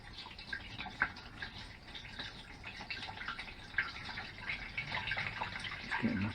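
Water poured by hand from a container into a campervan's water tank during a Fiat Ducato motorhome conversion, a steady trickling and splashing stream with a few drips, moderately quiet and continuous throughout.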